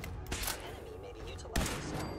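Gunfire in the Fallout 4 video game: a couple of sharp shots crack out a second or so apart over a busy, murky background of game sound.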